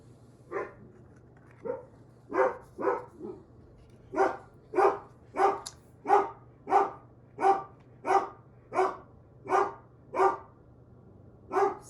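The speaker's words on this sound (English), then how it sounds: "Sorry about the barking. I have dogs," Several dogs bark indoors in a steady run of about fifteen sharp, evenly spaced woofs, fairly close and loud over a low constant hum, with no talking.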